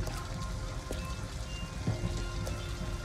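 Steady rain pours down in the video game Detroit: Become Human near an abandoned house in Southwest Detroit, a dense continuous hiss with scattered drops tapping close by.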